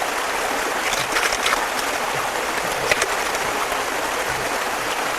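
Water sloshes and trickles steadily as mud is washed down in a gold pan, a continuous close wash with a few brief splashy swirls and no talking.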